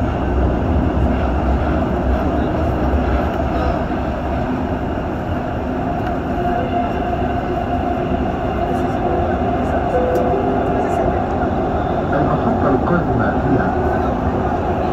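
A Dubai Metro Green Line train runs between stations, its steady rumble and rolling hum filling the carriage at a constant, fairly loud level from start to finish, with no talk heard.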